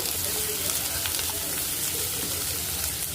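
Two large chopped onions fry with a spoon of cumin seeds in oil for a gobi aloo masala curry, giving a dense, continuous close sizzle with faint stirring throughout.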